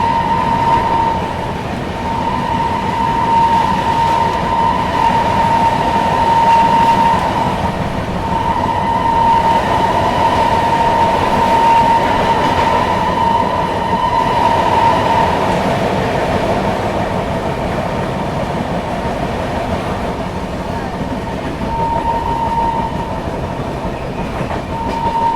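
Bihar Sampark Kranti Express train running and picking up speed, heard from inside the coach as a steady loud rumble with rhythmic wheel clatter and a faint sustained whine.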